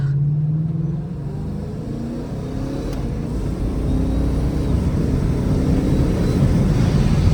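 A 2020 Mustang GT V8 with an XForce 3-inch catback exhaust pulls steadily, its deep engine drone rising in pitch and loudness while accelerating, heard from inside the car.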